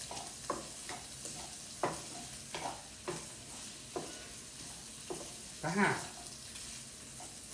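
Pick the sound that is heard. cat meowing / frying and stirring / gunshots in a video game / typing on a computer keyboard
frying and stirring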